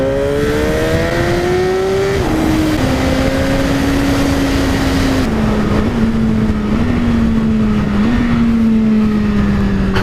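A Suzuki GSX-R1000R sport motorcycle engine revs loudly up close, a harsh rising howl that drops and then holds a steady high drone before dipping again.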